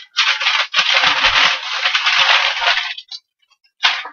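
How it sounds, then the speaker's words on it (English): Scrapbook kit in plastic packaging crinkling up close, loud bursts of dense rustling over several seconds, broken by brief pauses and one final short crinkle. "pardon the crinkling"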